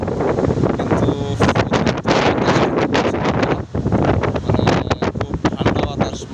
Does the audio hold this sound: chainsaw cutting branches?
no